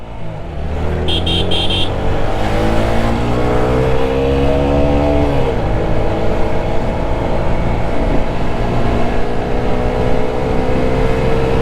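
Vehicles overtaking on a foggy road near Ruhitpur, Keraniganj, outside Dhaka, a loud, close engine drone that holds steady and swells in pitch as traffic passes, filling the whole stretch.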